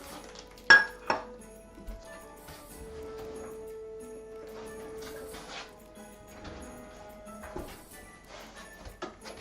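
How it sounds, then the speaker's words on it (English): A tiny cooking pan for quinoa is handled in a kitchen: sharp metallic clanks and clinks come in scattered bursts, with a louder knock near the start and quieter rattles and taps afterward. "I'm just gonna make that in a tiny little pan here."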